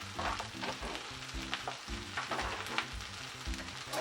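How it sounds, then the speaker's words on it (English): Cut collard greens sizzle and crackle in a hot pan, a continuous close frying hiss with scattered pops and soft scraping stirs layered over a low rumble. "These are my cut up collard greens. Once again, hear that sizzle."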